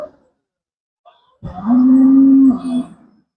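An Andhra-breed bull or cow at the Pollachi cattle market gives a single loud, drawn-out moo close by, lasting about a second and a half. A few faint sounds come just before it, and it fades out at the end.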